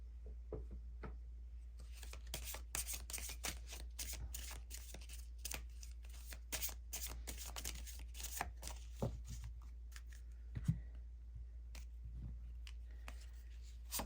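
Witchlings oracle cards shuffled by hand for a tarot reading, a quiet run of rapid papery riffles and flicks continuing throughout over a low steady hum.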